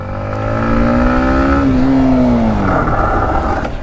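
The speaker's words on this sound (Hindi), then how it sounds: "ये देखो टायर स्किड हो रहा है" A Yamaha MT-15 motorcycle with ABS switched off, its engine droning loudly and steadily as the pitch rises then falls during a rear tyre skid, close and continuous.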